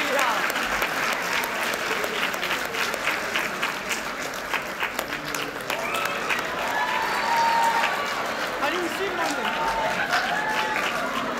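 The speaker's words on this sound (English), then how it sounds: "Please acknowledge the students now listed on the screens with a round of applause." Audience applause at a Sacred Heart school opening assembly acknowledging students, steady dense clapping filling the whole stretch with some voices mixed in underneath.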